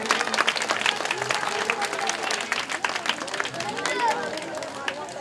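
A crowd applauding to welcome Pushpraj at a live Krishna Lila devotional event, loud dense clapping throughout with scattered voices and hubbub mixed in, sustained for several seconds.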